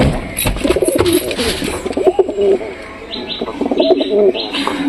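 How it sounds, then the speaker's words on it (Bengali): Pigeons coo repeatedly nearby in a loft, low rolling calls mixed with soft chirps and rustling, continuing throughout with some background noise. "তো বন্ধুরা কবুতর লফটের কাছে চলে আসলাম।"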